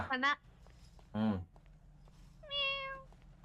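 A cat gives three separate meows spaced about a second apart, the last one longer and drawn out, fairly close against a quiet room with a faint hum underneath.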